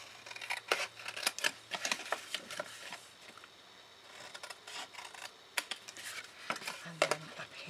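Scissors snip through card while a triangle treat box is shaped, a close series of short crisp cuts and rustling paper handling, with a brief quieter pause midway and no voice.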